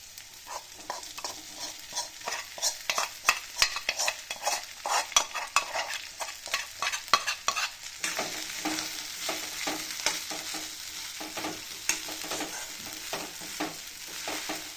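A spoon stirs peanut powder into a sabudana dish in a pan, with quick repeated scraping strokes in a steady rhythm over a soft sizzle, close and moderately quiet.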